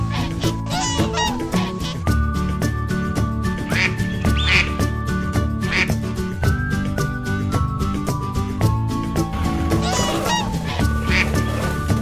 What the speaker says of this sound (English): We've got geese and ducks today.